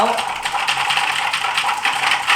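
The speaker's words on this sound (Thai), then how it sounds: "เฮ้ยกดคีย์บอร์ดอย่างนี้ม่วงๆมันก็เด้งอ่ะ" Rapid clattering of mechanical keyboard keys pressed at high speed for the Popcat clicking game, a dense continuous stream of bright clicks, loud and close, with no pauses.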